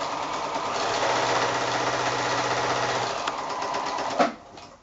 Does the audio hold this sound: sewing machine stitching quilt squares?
yes